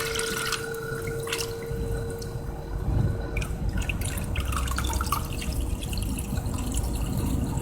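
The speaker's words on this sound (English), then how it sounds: "I'm going to bring my water level all the way up to about here on the outside rim of the bowl." Water runs steadily into a blue bowl, a continuous close splashing and trickling that swells slightly partway through, with scattered drips over the flow and no talk.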